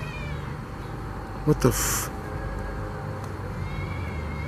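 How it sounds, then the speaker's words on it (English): An eerie cat-like cry sounds in the distance at a campsite, a brief wavering wail rising over steady background noise, with a person reacting in speech. "resembling something similar to a cat crying in the distance"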